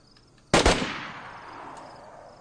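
A single sharp gunshot-like burst from a Call of Duty match, loud and close, followed by a long decaying rumble and reverb tail with faint background noise.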